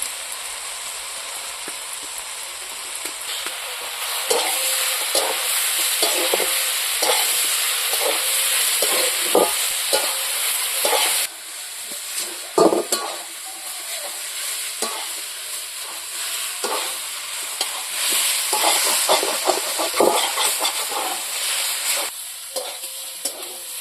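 Mixed vegetables sauté in a pan for a Bengali niramish with panch phoron. A steady, loud sizzle runs throughout, broken by repeated scraping and stirring strokes of a spatula, with no voices.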